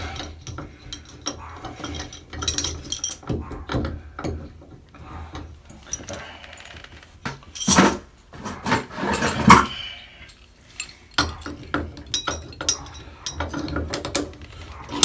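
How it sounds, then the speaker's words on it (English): A handle puller working on a Price Pfister shower tub valve handle makes repeated close mechanical clicks and ratcheting turns, with scraping and a few louder metallic bursts along the way. "We try a different handle puller."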